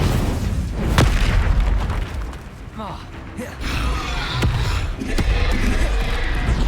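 Spell blasts from the video game Hogwarts Legacy: a series of sharp booming explosions and magical bursts, several close strikes at irregular intervals over constant loud game combat noise, with a spoken incantation voice mixed in.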